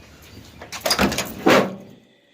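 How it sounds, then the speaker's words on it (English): The door of a 1979 Chevy C10 pickup truck is opened and then shut, two broad clunky bursts about half a second apart, close by with no talking. "This door works. It opens, it shuts."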